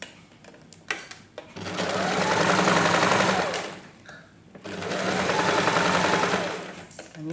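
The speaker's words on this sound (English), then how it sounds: "then I will keep sewing" A sewing machine stitches a lined princess dart blouse in two steady runs of about three seconds each, separated by a short pause, with small handling clicks at the start.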